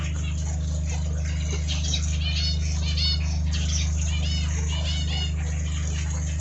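Red-whiskered bulbuls and budgerigars chirp steadily at moderate distance, a continuous busy chatter of overlapping tweets over a constant low mechanical hum.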